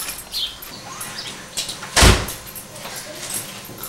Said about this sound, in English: can't you open the door?